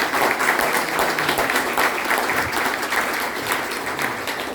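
A crowd at a public talk in Argentina bursts into dense, loud, sustained applause that stays full and even throughout, easing only slightly toward the end.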